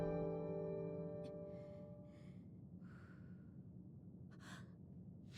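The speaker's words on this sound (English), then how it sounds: "She is breathing." An unconscious woman breathes slowly, with a few soft, separate breaths and gasps heard close and faint after a brief fading tone at the start.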